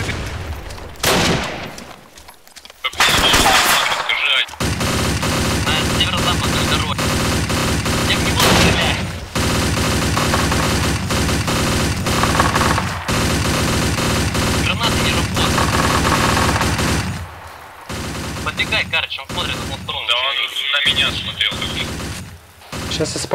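Gunfire fills a firefight in the military game ArmA 2 with the ACE mod: dense automatic bursts and rattling volleys, broken by short pauses and a few heavier booms, with faint voices mixed in.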